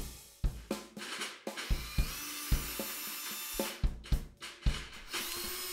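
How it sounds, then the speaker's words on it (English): A cordless screwdriver whirs in short, close bursts while removing the wires and head from a snare drum, each spin separated by clicks and brief pauses. "with an Evans drill bit and a cordless screwdriver it can be done quite quickly"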